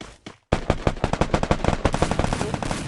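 Automatic gunfire in the Free Fire video game: after a brief pause, a rapid, loud burst of shots with several sharp peaks continues for over two seconds, with no talk over it.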